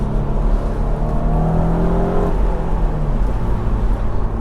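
A BMW Z4 accelerates hard in second gear with traction control off, its engine note rising steadily in pitch under loud road and wind roar from inside the cabin, then easing slightly.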